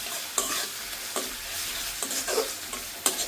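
Cumin paste and coriander powder masala sizzle in a pan while a spoon stirs in steady scraping strokes, close and fairly quiet, with nobody talking.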